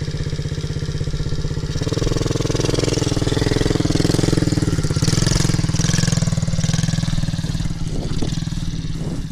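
A dirt bike engine idles nearby, then revs and steadies into a louder drone as it moves off, with brief voices near the end.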